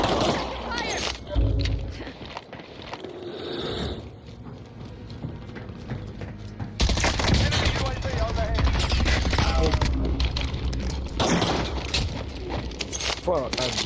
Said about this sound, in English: Targets are up. I'm under fire.